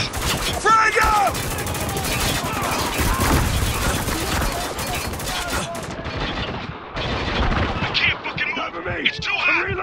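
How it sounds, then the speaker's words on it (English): Sustained gunfire in the video game Spec Ops: The Line, a dense fusillade of automatic bursts and single shots, loud and close, with shouted voices mixed in and a brief lull before the firing resumes. "Hostile, shooting from that hole!"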